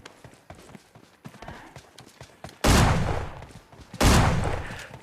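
Shotgun fire in the mobile battle royale game PUBG Mobile Lite: two loud, booming blasts about a second and a half apart, each with a long decaying tail, following softer in-game footsteps and movement noise.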